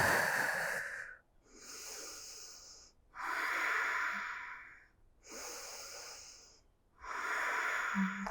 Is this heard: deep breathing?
yes